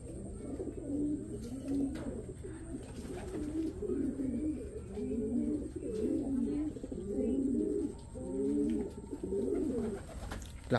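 Racing pigeons returning home during a club fun race in Aritao, Nueva Vizcaya coo steadily and close by, with repeated throaty rolling calls over a constant low hum and no talking.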